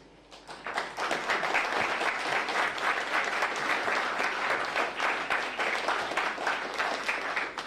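Crowd applause at a public assembly speech, rising quickly from a quiet start into sustained, dense clapping from many hands that holds at an even level to the end.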